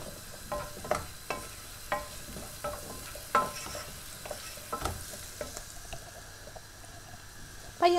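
Carrots and other vegetables softening in a pan for butternut squash soup, a quiet steady sizzle with irregular stirring scrapes and taps at a moderate distance.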